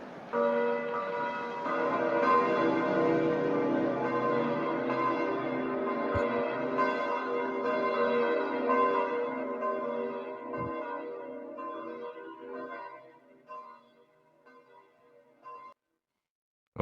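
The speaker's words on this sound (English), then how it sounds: "I think I hear some church bells" Church bells ring continuously in a rich, layered peal, fairly close and loud, then slowly fade out over the last few seconds with no talking.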